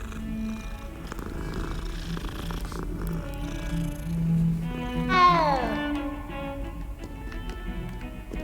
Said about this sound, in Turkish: Bu da farklı bir kedi.